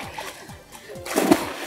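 A person falls into swimming water with a loud, splattering splash near the end of a short stretch, after quieter ambient sounds.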